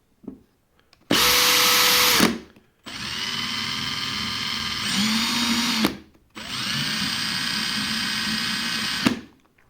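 Power drill fitted with a Wera Rapidaptor bit holder driving a screw, with loud steady whirring bursts separated by short pauses, the motor pitch rising and falling in three runs under no talk.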